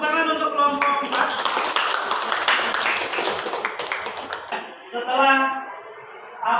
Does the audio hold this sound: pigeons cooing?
no